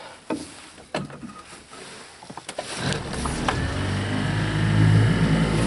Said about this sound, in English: Motor's running a little rough